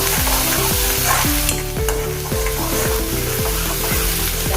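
Spice masala fries in hot oil for a North Indian potato and pea curry, a dense close sizzle with repeated rhythmic scraping strokes of a spoon stirring the pan.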